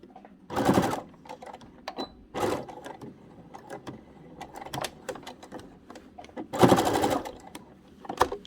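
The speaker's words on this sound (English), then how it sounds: "And then just sew all the way around." A sewing machine stitches the pocket onto a ribbon skirt, running in several short bursts of steady mechanical whirring separated by pauses, close and clear.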